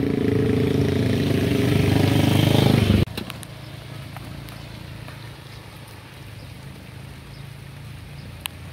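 A motorcycle engine runs loud and rough in a rainy village for about three seconds, then cuts out abruptly, leaving quiet background with light rain and small ticks.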